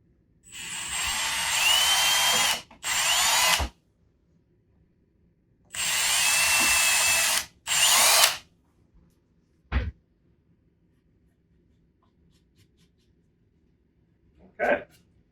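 A power drill pre-drills into wall studs for a wall-mounted coat rack, loud and close in four whining bursts of a second or two each, followed by quiet with a couple of brief knocks.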